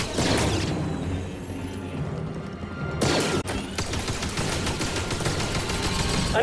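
Rapid blaster gunfire in Star Wars Jedi: Fallen Order, a loud continuous barrage of shots and booms with mechanical clatter, briefly broken by a sharp crash midway, then resuming at full intensity.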